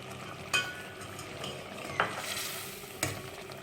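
Browned onions, crumbled by hand, go into a pot of beef korma and are stirred and fried: a steady soft sizzle with three sharp spoon scrapes against the pot, close and moderately loud, no talking.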